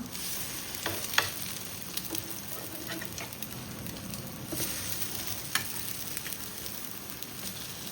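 Bread slices frying in a pan, a steady close sizzle with faint crackles and a few soft scraping taps throughout, no voices.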